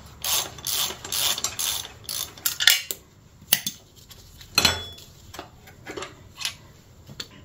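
Wrench loosening the rear shock nut on a Harley-Davidson Sportster, roughly a 20 mm, giving quick bursts of metallic ratcheting clicks close to the microphone, with short pauses between strokes.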